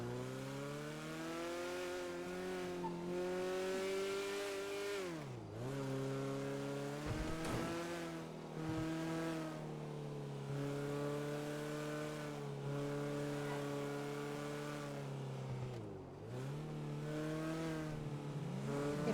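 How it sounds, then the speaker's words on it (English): A small Weevil car in GTA V revs its loud, shouty engine at length, pitch climbing and dipping repeatedly as it accelerates and eases off, up close with no talk. "It is a very shouty engine for a little car"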